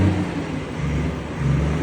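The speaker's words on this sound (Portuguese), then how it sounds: "Ligou o freio motor, bota no último estágio, no estágio 2 ali." Volvo FH heavy truck with a diffuser and a crackling aftermarket exhaust, engine brake set to stage two, giving a loud, steady low rumble that swells near the end.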